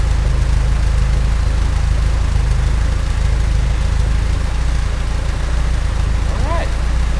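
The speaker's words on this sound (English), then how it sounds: "It's a much better idle." A Porsche 924 engine idles steadily close to the microphone after a vacuum leak repair, a loud, even low rumble with a faint whistle near the end.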